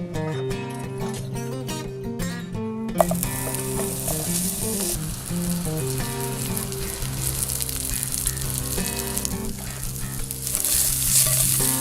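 Sausages and steak fry on a backpacking stove outdoors, a loud, continuous close-up sizzle that grows a little louder after a few seconds and then holds steady with crackling spatters.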